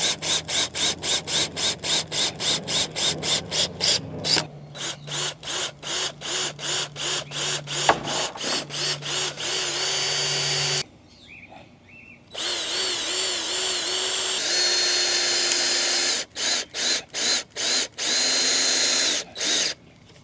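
A power drill drives strong screws into the wooden frame of a small urban garden bed, with rapid stuttering bursts of the motor, longer sustained whines as screws bite into the boards, and brief pauses between, close and loud.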